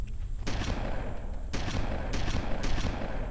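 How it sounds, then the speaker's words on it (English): Shotgun blasts in the Halo video game, several loud broadband shots in quick succession, the first near half a second, then more at about 1.5, 2.1 and 2.6 seconds, each with a sustained rumbling tail and no talk. "This is the shotgun."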